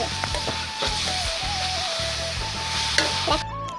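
Steady sizzling from a hot pan as a grated carrot and coconut laddu mixture is stirred, repeated scraping and stirring strokes, close up, with a faint background hum.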